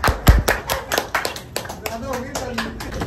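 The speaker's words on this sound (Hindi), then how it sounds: "ताली मारो सर भाई" Hands clap in a quick irregular run close to the listener, sharp taps repeating over a few seconds while people talk over them.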